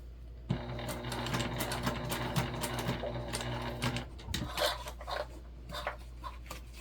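Sewing machine stitching fabric for a modified Lindsport mini backpack, a steady rapid needle chatter for several seconds, then lighter intermittent stitching and fabric handling, close and fairly quiet.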